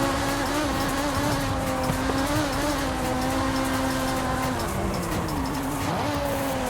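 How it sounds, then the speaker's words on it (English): A BMW in Forza Horizon 5 accelerates hard, its engine sustaining a loud, buzzing whine that climbs and dips steadily through gear changes, joined by other engines nearby. "Gee, look at that BMW go. Just rocketing out of the gates."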